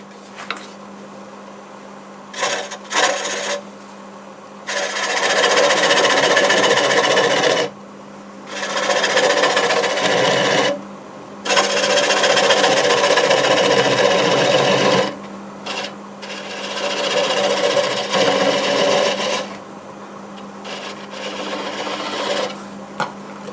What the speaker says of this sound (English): Slowed the lathe down to about 400. Now I'm going to cut most of that nub away.